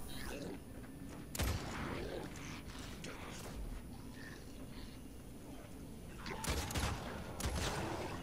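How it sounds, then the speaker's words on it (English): The Basilisk gun fires at husks in Fortnite Save the World, giving a few punchy shots spaced apart, with a cluster of rapid blasts toward the end over a low game ambience. "the Basilisk kills an elemental husk with a body shot"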